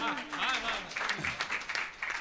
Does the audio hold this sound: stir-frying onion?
no